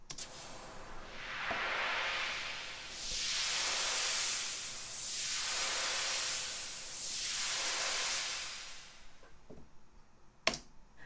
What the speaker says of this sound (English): let's listen to how it sounds with both the low pass filter and the tremolo being automated